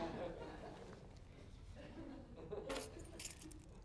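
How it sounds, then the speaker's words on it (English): Keys jangle as they are held up before a gathering, metallic clinks bright and close, over a murmuring background and faint speech. "What do these keys represent?"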